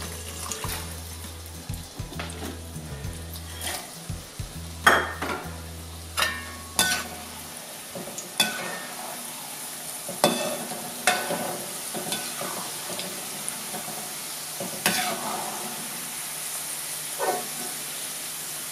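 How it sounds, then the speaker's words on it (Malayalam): Rice going into a pot for Thalassery-style chicken biryani, with a low steady hum at first, then scattered clinks and scraping stirs against the pot over gentle watery bubbling, close and moderate. "ഇനി റൈസിന് ഇട്ട് കൊടുക്കാം."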